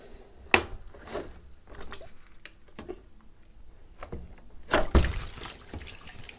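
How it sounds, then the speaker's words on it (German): Leftover water trickles and splashes out of a water pocket removed from a dishwasher, coming in a few short, close bursts with quiet dripping between them. "hier kommt, wie vorhin angesprochen, das Wasser noch herausgelaufen"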